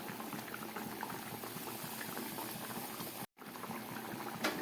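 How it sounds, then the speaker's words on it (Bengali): Fish curry gravy boiling hard in a pot, a dense continuous bubbling and popping heard up close, briefly cut out for an instant near the end, with no talking. "ঝোলটাকে একদম ফুটিয়ে নিলাম"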